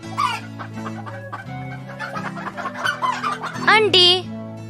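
A chicken clucks in a busy run of close calls, with rising squawks near the end over a steady background hum.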